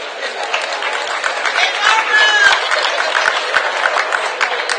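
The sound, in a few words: audience applause after keynote address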